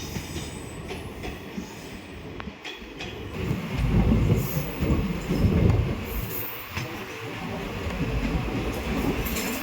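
Ganga Sagar Express passenger train running on rails toward Jaynagar, a steady loud rumble of wagons with rhythmic clatter and some wheel squeal, swelling in the middle and holding strong to the end.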